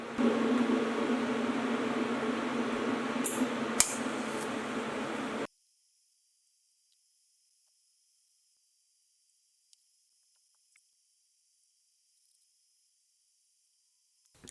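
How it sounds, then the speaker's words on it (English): An angle grinder smooths welds on mounts for rally car stands in a Subaru GC8 rally build, giving a loud, steady abrasive roar for about five seconds before cutting off abruptly to near silence. "I'm gonna hit it with a grinder just to get rid of any high spots that it has"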